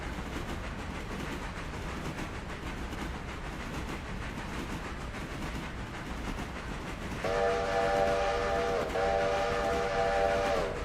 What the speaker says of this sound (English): It's been too long since we had a whistle.